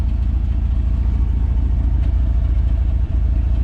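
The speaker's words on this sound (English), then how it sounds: "Check out that custom exhaust right there." A 1990 Dodge Power Ram truck engine rumbles steadily through a custom exhaust, a loud, continuous low throb with a fast regular pulse and no talking.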